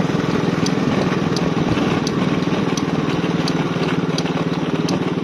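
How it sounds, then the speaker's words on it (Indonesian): A small motorcycle engine chugs in a fast, steady pulse while being ridden through a guava orchard in Taiwan, loud and continuous. "Dan kita sendiri naik motor Sobat Lisa."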